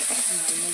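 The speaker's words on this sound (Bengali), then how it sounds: "এবার পেঁয়াজটা একটু নাড়িয়ে নেব," Onions with a pinch of salt frying in a pan for a home-style chicken kosha, stirred with a steady bright sizzle and soft scraping, close and fairly loud, brief and continuous.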